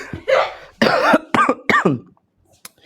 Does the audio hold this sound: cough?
yes